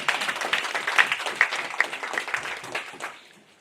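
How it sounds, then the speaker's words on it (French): An audience at an official handover ceremony applauds, with dense, steady clapping that stays close and strong before trailing off at the end. "Je voudrais qu'on l'applaudisse pour cette collaboration."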